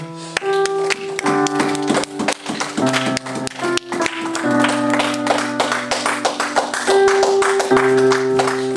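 A church congregation claps to acclaim the Lord, rhythmic hand claps running steadily beneath sustained keyboard chords at a lively service.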